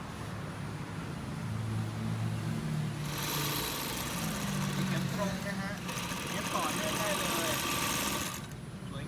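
A King Leo KLJ 20 U 63 sewing machine runs through straight and zigzag stitching, a steady motor hum and needle whir that pauses briefly and resumes, with talk over it.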